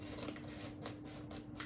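Left-handed scissors cut in a quiet kitchen, a few soft, evenly spaced snips and rustles, close and faint.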